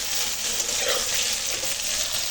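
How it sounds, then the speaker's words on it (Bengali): Steady sizzling and crackling of onion stalks, steamed with salt and turmeric, frying in hot oil in a pan, close and continuous with no talking. "পেঁয়াজকালিটা একটু নুন হলুদ দিয়ে ভাপিয়ে নিয়ে ভাজা করে নিচ্ছি"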